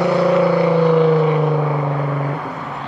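A Renault Alpine GTA Turbo engine with an aftermarket exhaust revs loudly up close with a deep, rumbling exhaust note that drops off slightly near the end.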